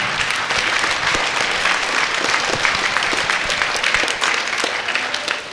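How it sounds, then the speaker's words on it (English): An audience at a school chorus concert claps for the parents, producing dense, loud, sustained applause from a large crowd that fills the whole stretch without a break. "Yes, clap for your parents."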